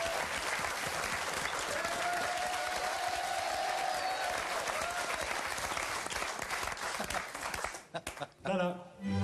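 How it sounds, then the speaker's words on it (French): A TV studio audience on a French comedy game show bursts into sustained, dense applause for a singer's entrance, filling most of the stretch before thinning out near the end with a few scattered claps and other sounds. "Je vous demande d'accueillir et d'applaudir comme il se doit,"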